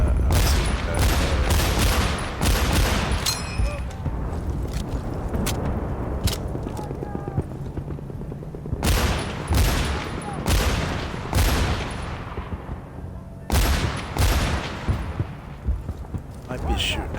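Bursts of gunfire ring out from a Battlefield 1943 online match played on Xbox Series X, loud clustered volleys at the start, middle and end with quieter game ambience between, and someone talks over parts of it.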